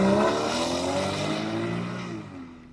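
A Porsche Cayman's flat-six engine revs hard as the car accelerates, its pitch climbing then settling, with the sound fading over a few seconds.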